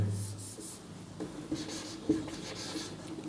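Chalk or marker strokes on a board in a Class 10 science lesson, several short scratchy rubs with small taps, fairly quiet and close, with no talking.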